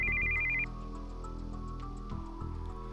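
An incoming-call cell phone ringtone in the visual novel Steins;Gate 0, a short high electronic trill that cuts off quickly, then soft background music continues alone.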